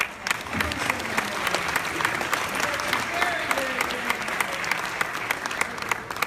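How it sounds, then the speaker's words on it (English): Sustained crowd applause fills a community conversation event in Palms with a congresswoman, dense steady clapping from many hands at moderate volume, with faint voices and cheers mixed beneath. "Give another round of applause."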